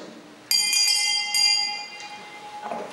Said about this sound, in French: mais sonner la cloche pour indiquer le début de la manifestation